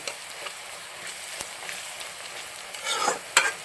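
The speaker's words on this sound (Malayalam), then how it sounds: "നന്നായിട്ട് പൊരിയട്ടെ" Prawns fry in hot oil for a Kerala-style prawn roast, a steady soft sizzle with occasional stirring scrapes and a louder crackling burst near the end, no talk over it.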